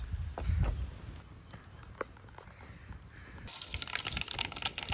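Dried fish is rinsed in water, with soft sloshing and a few clinks at first, then a louder gushing rush of running water toward the end.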